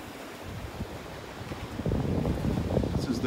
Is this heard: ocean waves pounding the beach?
yes